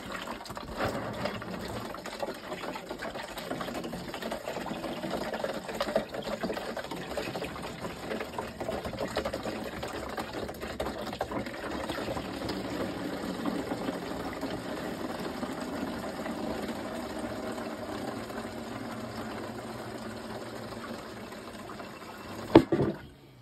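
Kodak Xtol black and white film developer solution being poured into a 5 litre drum, a steady close liquid pouring and gushing sound lasting around twenty seconds, then a brief knock at the end, with no talking.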